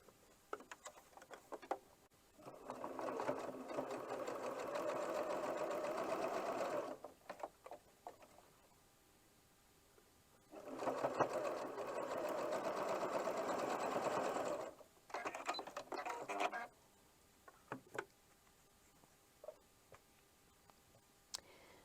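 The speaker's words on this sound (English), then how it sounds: "Now I'm going to put them together, excuse me, nest the center seam allowance, and sew the 1/4 inch seam allowance." Sewing machine stitching a quarter-inch seam on a scrappy quilt block, running in two long steady bursts of about four seconds each with a shorter third run, separated by quiet pauses and light handling ticks.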